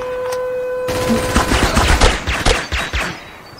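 Rapid automatic gunfire from the VR cover shooter Last Sniper VR: a dense, loud burst of overlapping shots that cuts in abruptly after a steady tone and rattles on for several seconds.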